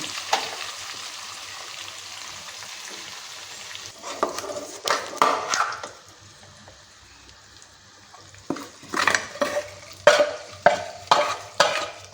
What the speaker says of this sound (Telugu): తాలింపు ఇలా వేగిన తర్వాత స్టవ్ ఆఫ్ చేసుకుని మెదుపు పెట్టుకున్న పొట్టులో వేసేద్దాం